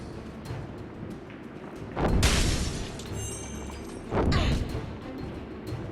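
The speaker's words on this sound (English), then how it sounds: "Not unless we smash these crystals." Crystals are smashed in Dungeon Siege III, with two loud crashing impacts about two seconds apart over a constant rumbling game backdrop.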